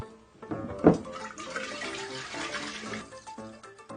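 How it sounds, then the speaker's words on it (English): Oil is poured into water in a science demonstration about soap and fats, giving a continuous splashing, gurgling liquid pour with one sharper splash near the start, close and fairly loud, with no talking. "What happens when you pour oil into water?"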